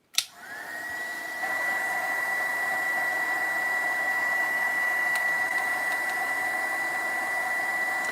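Hair dryer blowing on paint on an altered art project: a click, then a loud steady high whine with rushing air that settles into a constant drone, close and uninterrupted with no talking.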